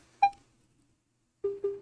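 Short electronic beeps from a phone running a Geo Pro 3D scan line: one clear tone, a pause, then a quick run of three lower beeps, close and distinct.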